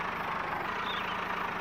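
A van engine idling in the video game Woodcutter Simulator 2013, a steady broadband rumble at a constant moderate level throughout, with no talking.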